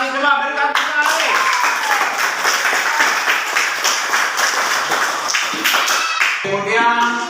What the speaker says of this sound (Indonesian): coba berikan tepuk tangan lagi